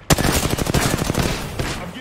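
Rapid automatic gunfire in an online multiplayer shooter pub match, a loud dense burst of shots rattling continuously for two seconds, close and harsh, with sharp individual cracks.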